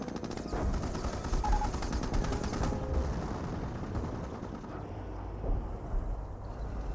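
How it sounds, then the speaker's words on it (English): Sustained battlefield gunfire from Company of Heroes, with dense machine-gun bursts and scattered shots rattling continuously over a low rumble for the whole stretch, fairly loud and steady with no voices. "Is under enemy fire."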